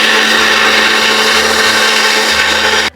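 A mixer grinder whirs steadily as it blends soaked tamarind and spices for a home-style fish curry. The motor runs loud and continuous at close range, then cuts off abruptly at the end.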